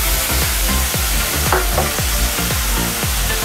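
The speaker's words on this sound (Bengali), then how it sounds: "মাছ ভাজার যে তেলটা তার মধ্যে 1 চামচ রসুনের পেস্ট দিলাম।" Garlic paste sizzles in hot fish-frying oil in a pan, a steady loud crackle with a spoon scraping and stirring in a regular rhythm throughout, no voices.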